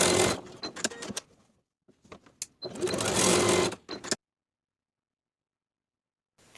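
Sewing machine stitching a denim skirt pocket with a 3/8 inch seam allowance, two close, loud bursts of rapid mechanical whirring separated by brief pauses and small clicks, then silence.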